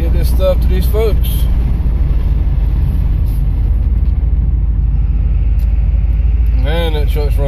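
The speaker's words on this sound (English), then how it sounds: "Man, that truck's running rough." An old Ford diesel truck engine runs rough with a loud, low, continuous rumble throughout, while someone talks over it at the start and near the end.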